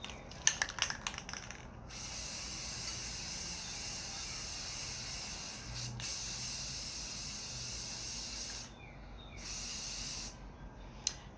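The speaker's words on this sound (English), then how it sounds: "Now I'm going to spray paint it." An aerosol can of spray paint hisses onto a 12 oz plastic push-top bottle. There are a few clicks and rattles first, then long, steady, close sprays broken by short pauses.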